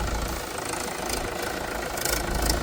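Farm tractor engine idling at a village fair, a steady close mid-to-low rumble with an even knocking pulse and no voices.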